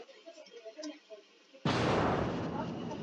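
Heavy naval guns boom from a World of Warships cruiser battle. Quiet low chatter comes first, then a sudden loud, broad blast that rolls on and stays loud to the end.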